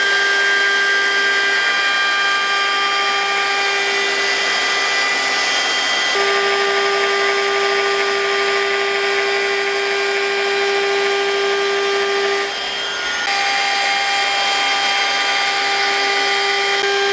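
A DeWalt XR 18V cordless trimmer router cuts a quarter-round profile, giving a loud, steady high-pitched whine with a brief dip near the end, close up and without talk.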